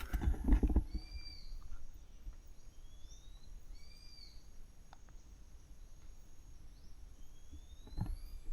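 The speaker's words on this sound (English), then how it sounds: "Listen to the birds." Birds at a quarry give thin, scattered whistling calls and chirps over a quiet outdoor background, faint and distant, with a brief louder noise at the start.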